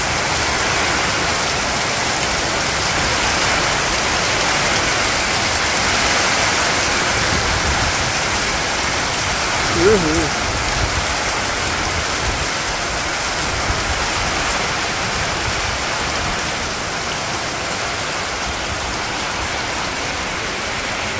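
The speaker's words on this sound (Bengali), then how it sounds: "সেরকম বৃষ্টি হইলো ঝড় বৃষ্টি" Steady, heavy rain pours down in a village during a storm, a dense continuous hiss with no pauses and one brief louder knock partway through.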